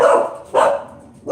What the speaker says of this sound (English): Girls, what are you barking at?